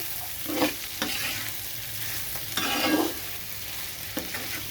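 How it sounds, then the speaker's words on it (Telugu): Ivy gourd (dondakai) fries in a pan, a steady close sizzle with a few scraping stirs of a spatula spaced a second or so apart. "ఈరోజు దొండకాయ వేపుతున్నానండి."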